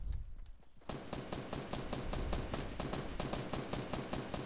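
Rapid bursts of gunfire in Fortnite, a fast, steady stream of loud shots after a brief quieter start, continuing without pause to the end.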